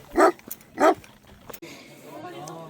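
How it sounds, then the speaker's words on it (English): A big dog guarding a flock of sheep on a mountainside near Les Contamines and Les Chapieux on the Mont Blanc trail barks twice, loud and fairly close, followed by a faint whimper and quieter outdoor sound. "Big old dog's guarding them. He's letting us know we got to get moving."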